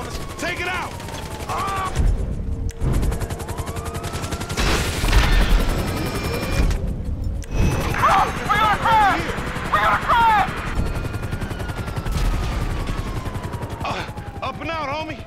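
Helicopter and gunfire in the video game GTA 5: bursts of shots and clattering mechanical sounds over a continuous rotor-like drone, loud and busy, with brief gaps of near silence.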